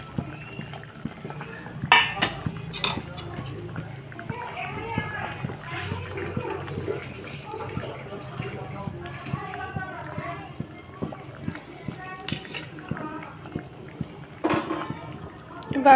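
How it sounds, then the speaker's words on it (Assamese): Pieces of fish go into a pot of boiling water for an Assamese fish curry, making a few splashes and clinks of the pot amid bubbling, with a person talking over much of it. "চ' এতিয়া মই মাছখিনি দি দিওঁ"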